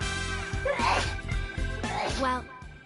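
A character sneezes in Persona 4 Golden, two short bursts under game music and voiced dialogue.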